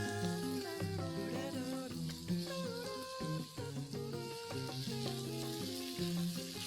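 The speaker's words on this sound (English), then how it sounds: "We'll cook the onions till they go soft." Sliced onions fry in a cooked paste in a pan, giving a steady, even sizzle that runs throughout beneath music, with no one speaking.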